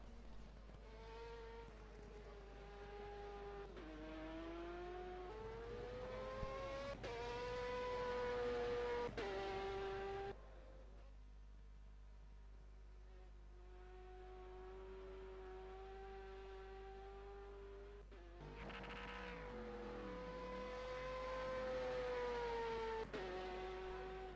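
A Ferrari race car engine on a sunny track in rFactor 2, its tone rising and falling through gear changes, then holding steady before climbing again, moderately near and continuous.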